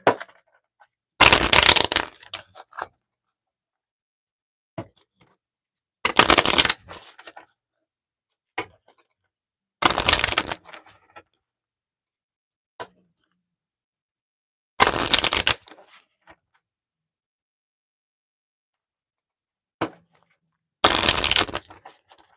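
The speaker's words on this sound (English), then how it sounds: "I'm going to be using playing cards." A deck of playing cards shuffled in short, crisp bursts of riffling roughly every four to five seconds, with near-silence and faint small handling ticks between them.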